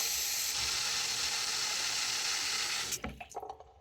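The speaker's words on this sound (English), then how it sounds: "I fill that up with cool water." Cool tap water pours steadily into a small denture cleaner with a rushing hiss, then stops abruptly, leaving a few drips and clinks.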